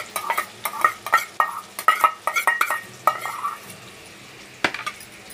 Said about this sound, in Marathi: त्यामध्ये हे बारीक चिरून घेतलेले कांदे घालून घेऊया